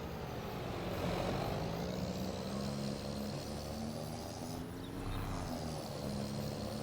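A heavy rescue tow truck hauls a loaded Peterbilt semi down the road, its engine giving a steady, low, continuous drone close by with no voices.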